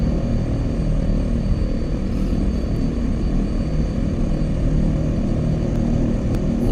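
Steady propeller drone of an OV-10 Bronco aircraft engine in a VR flight game, a continuous low rumble held at an even level throughout with no talking.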